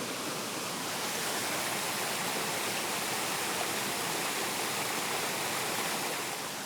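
A stream of water pours into a pool outdoors, a steady, dense rushing splash that stays even and fairly close throughout, with no voices.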